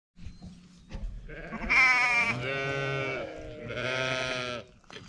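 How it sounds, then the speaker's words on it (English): Bottle lambs in a livestock lambing barn bleating, two long loud wavering cries close by, preceded by faint shuffling and softer calls. "These are bottle lambs."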